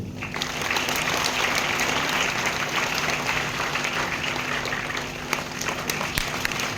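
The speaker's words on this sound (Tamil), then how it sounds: "உங்களுடைய பலத்த கைத்தட்டலோடு" Sustained applause from a large crowd at a guest-of-honour ceremony during a Chithirai festival event, loud and steady throughout, with dense overlapping claps filling the room.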